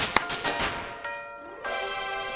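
A bright chiming jingle in a crafting video game marks a crafting level-up, a sharp ding followed by sustained ringing tones that dip briefly and then return as a steady, clear chord.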